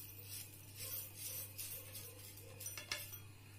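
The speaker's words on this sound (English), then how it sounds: "Firstly, we will pour some moong seeds in a container." Moong seeds poured into a container, giving a faint scatter of small clinking, rattling ticks across a few seconds over a low steady hum, with no talking.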